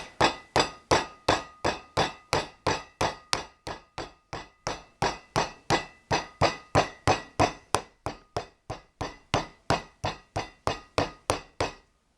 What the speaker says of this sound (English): you would ideally have a cooking hammer